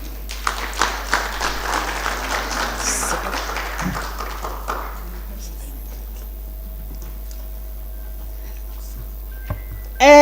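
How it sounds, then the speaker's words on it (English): A lecture audience claps in a burst of applause that fades out within about five seconds, leaving a quiet room hum and a brief clunk near the end. "Let's give her another round of applause"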